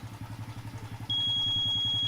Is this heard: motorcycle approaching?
yes